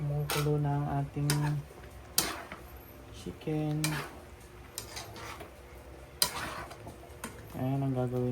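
Creamy pineapple chicken simmering in a pot, with clinks and scrapes of a utensil against cookware and soft bubbling in between, while a person speaks over it.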